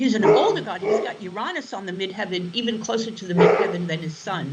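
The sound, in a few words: dog barking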